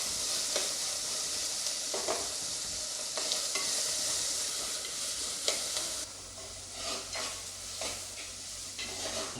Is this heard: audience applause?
no